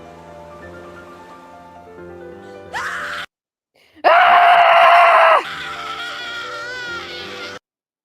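A character in an animated gacha video screams in shrill, loud bursts, broken by a short silence before a longer, piercing scream and a wavering tail.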